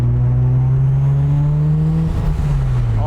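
A 500 hp Mazda RX-3 with a swapped 13B rotary engine accelerates on a freeway, its loud, steady buzzing drone holding close and continuous for about three seconds, with pitch dipping slightly near the end.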